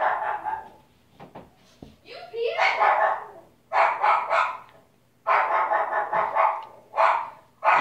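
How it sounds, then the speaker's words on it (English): A dog barks in bursts of several quick, loud barks with short pauses between them, close by, while a person speaks intermittently in the background. "What's she barking at?"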